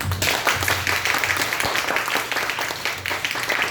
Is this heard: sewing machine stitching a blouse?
no